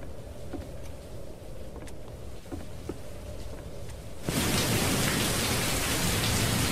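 Steady rain hisses throughout a Roblox horror game, then a sudden loud crash of thunder swells into a heavy, sustained roar that fills the rest of the scene.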